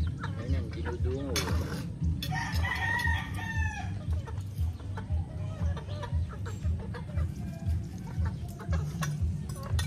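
Chickens cluck steadily up close while a rooster crows once clearly in the middle, with a bit of talking mixed into the outdoor farmyard sound.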